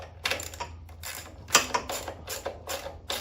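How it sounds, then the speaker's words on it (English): A ratchet wrench tightens 10 mm nuts on a Predator 8750-watt inverter generator being converted from gas to propane. Close, repeated bursts of quick mechanical clicking with short pauses between strokes, and no voices. "we'll go ahead and pull this around, and we'll tighten these up"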